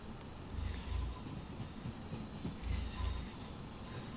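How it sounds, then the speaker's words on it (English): A Class 390 Pendolino pulls away in the Train Sim World 6 game on the Manchester route, a faint continuous rumble of rolling stock with a few soft rhythmic wheel thumps over rail joints. "Train snakes its way out."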